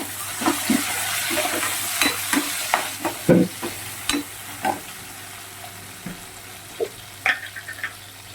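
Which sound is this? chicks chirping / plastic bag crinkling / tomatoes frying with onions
tomatoes frying with onions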